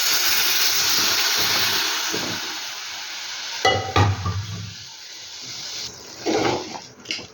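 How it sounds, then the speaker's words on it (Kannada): Brinjal pieces drop into tomato frying in oil, and a steady close sizzle runs throughout, broken by a sharp scrape and clatter of stirring in the pan partway through, with more bursts of stirring near the end. "ಈಗ ಮಸ್ತ್ ಇಟ್ಕೊಂಡಿರುವಂಥ ಬದನೆಕಾಯಿನ ಹಾಕ್ತಾಯಿದ್ದೀನಿ"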